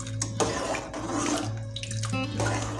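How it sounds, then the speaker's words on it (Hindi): Cold water poured over peas to soak them, a close, splashing stream running into a bowl with gurgles and brief surges in flow. "इसके अंदर 2 से 3 मिनट के लिए इसको भिगो के रख दूँगी पानी में"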